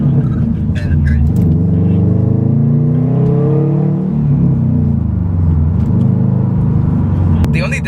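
A 2018 Subaru STI with turbocharged engine and manual clutch driving, its steady loud engine rumble and tyre drone filling the cabin continuously while people talk over it.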